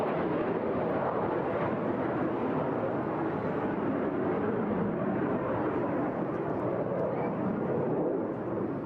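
Early generation fighter jets flying at the Eastbourne International Airshow, heard as a steady, broad roar of jet engines that stays loud for the whole stretch with no pause.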